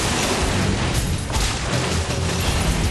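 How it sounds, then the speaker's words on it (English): A sustained, loud explosion with rumbling destruction from a Hulk movie cutscene, a dense wash of roaring noise and low booms that continues without a break and no talk. "The explosion, the destruction,"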